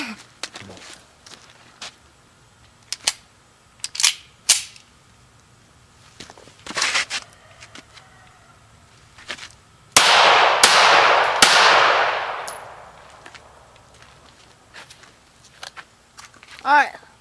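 Pistol shots fired during an outdoor ambush drill: three sharp, loud reports in quick succession, each with a ringing decay, after scattered metallic clanks, footsteps and brief speech.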